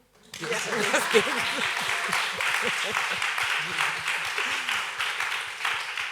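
Audience applause at a talk on the art and legacy of sculptor Meta Vaux Warrick Fuller, hosted with a research center for Black culture at the New York Public Library: a steady, moderately loud wash of clapping under a voice.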